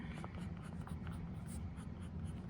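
Fine nib of a bronze TWSBI Go Serpentine fountain pen scratching steadily across paper, a soft continuous stroke with small tick-like accents, close and quiet with no talk.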